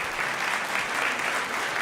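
Applause from a debate audience, a dense steady wash of many hands clapping at moderate distance, even in loudness throughout with no voices standing out.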